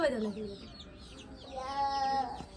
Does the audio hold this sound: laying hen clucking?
yes